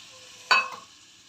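Water is poured into a hot frying pan of fenugreek and ginger-garlic paste for plantain curry, bursting into one sharp sizzle that quickly fades to a low steady hiss.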